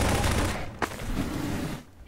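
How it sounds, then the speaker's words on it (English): A rapid burst of loud gunfire in Garry's Mod, aimed at a wall, crackles on continuously for about two seconds before cutting off. "I think I want to shoot the wall."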